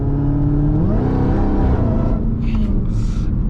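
A Dodge Charger Hellcat surges forward in highway traffic, its engine note rising loudly under hard acceleration with a steady rumble and some wind and road noise.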